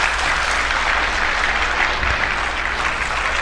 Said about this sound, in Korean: 자, 박수로 맞이해 주시기 바랍니다